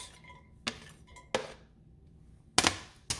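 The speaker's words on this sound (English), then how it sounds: "We're going to take the chopped celery and onion and put that into the pot." Chopped celery and onion tipped into a cooking pot for mushroom soup, giving a few sharp metallic clinks and knocks spaced across a quiet kitchen, close and moderately loud with no talking.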